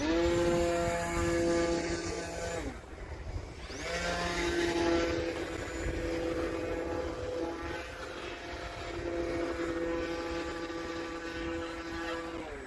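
A radio-controlled Sbach model airplane's engine whines steadily with rising and falling pitch as it passes in cold winter air, loud and continuous throughout, with a brief dip midway.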